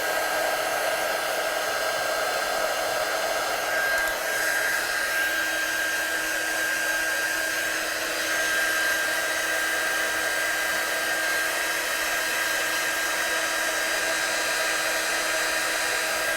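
A heat tool blows steadily to dry watercolour on a stamped card, producing a constant, close, whirring blast of air with a high-pitched motor whine that stays unchanged throughout.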